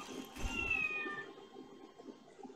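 In Garry's Mod, a cat gun lets out a single quiet, drawn-out meow that rises and then trails off against a faint background.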